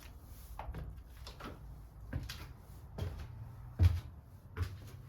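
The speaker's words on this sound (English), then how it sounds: "That door's locked." Someone tries a locked door in an abandoned, derelict wine store: a series of dull knocks and rattling thuds from the door, about five or six irregular bangs, close and fairly loud in a quiet room.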